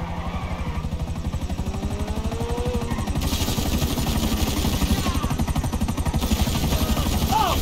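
Helicopter in Grand Theft Auto V, a steady rotor thump chopping low and loud throughout, with engine whine rising partway through and brief game sound effects layered over it.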